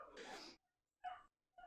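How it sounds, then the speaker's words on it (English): A dog barks indoors in a few short, sharp bursts, one loud outburst followed by two briefer barks after pauses, fairly close and with no talking over it. "What is my dog barking at?"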